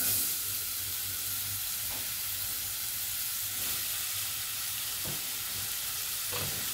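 Steady, close sizzling of hot oil with spices frying in a pan for a vegan chickpea curry, a continuous hissing crackle with occasional soft stirring knocks, no voices.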